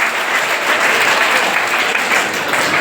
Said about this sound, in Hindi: तो निष्ठा हाउस के लिए जोरदार